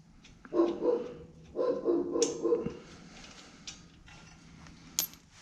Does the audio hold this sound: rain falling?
no